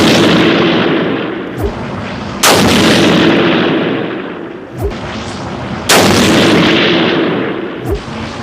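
Two sharp, loud rifle shots fired with Hornady ammunition at a range target, spaced a few seconds apart, each crack followed by a long, rolling echo that fades slowly.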